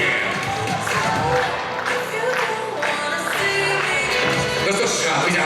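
Loud applause and some cheering from an audience at a Miss and Mister university pageant, sustained dense clapping with music and crowd noise mixed underneath.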